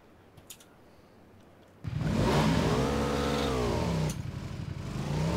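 Motorcycle engine revving hard as the bike pulls away, starting abruptly after a quiet moment, then a loud, close, rising and sustained engine roar with a brief dip before building again.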